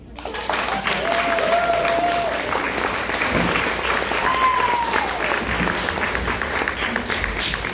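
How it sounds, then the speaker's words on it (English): Theatre audience applauding during a stage play, dense steady clapping throughout, with actors' voices briefly rising above the crowd noise. "Clap if you believe."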